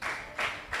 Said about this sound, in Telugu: నా శ్రమలో నేను యెహోవాకు గట్టిగా చప్పట్లు కొట్టి మహిమపరుదాం.